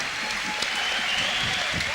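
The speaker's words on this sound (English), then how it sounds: "How about a big round of applause to Christian Stacks?" Crowd applause at a kickboxing event in Keilor for fighter Christian Stack, a steady wash of clapping with voices mixed in.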